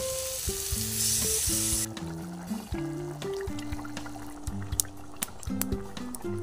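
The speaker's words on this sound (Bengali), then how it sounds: "কষানো হয়ে গেছে, এবার আমি জলটা দিয়ে দিচ্ছি" Water poured into a frying vegetable curry on a homemade clay stove, a loud hiss of sizzling at the start giving way to bubbling, dripping and scattered pops, with faint voices in the background.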